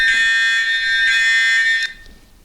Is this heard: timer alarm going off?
yes